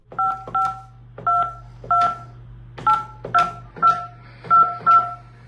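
Telephone dialing tones from an unanswered call to a construction developer: a run of about ten short, evenly spaced two-tone keypad beeps over a steady low line hum.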